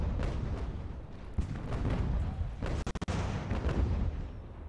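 Incoming mortar shells in the naval combat game Ultimate General: American Revolution, a dense rumbling barrage of booms and artillery blasts, with a rapid burst of sharp cracks near the middle and no voices.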